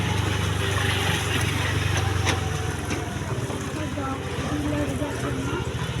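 A tractor engine runs steadily with a low chugging drone, mixed with background talk.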